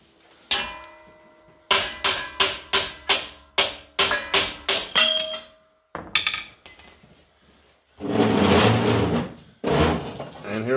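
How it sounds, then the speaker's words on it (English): A hammer drives a punch through steel to make a square hole, giving about a dozen sharp metallic strikes in a steady rhythm, close and loud, followed by a voice talking afterward. "I'm going to hammer it through."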